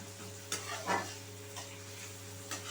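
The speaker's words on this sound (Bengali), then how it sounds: "পেঁয়াজটা হালকা ব্রাউন করে আমি ভেজে নিচ্ছি" Chopped onions frying in a pan while a semolina pulao is being cooked, producing a steady soft sizzle close by with a few light stirring scrapes over a low constant hum.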